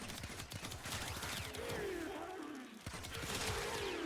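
Ballistica Prime crossbow firing in Warframe, a rapid string of sharp ghostly shots with whooshing projectile trails that come in quick bursts, fairly loud and close, with no talk.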